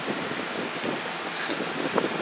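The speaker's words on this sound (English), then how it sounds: "Sorry about the fan noise." A room fan hums in a plant grow room holding cannabis clones, giving a steady, even broadband whoosh close to the microphone that runs unbroken for the whole stretch with no talking.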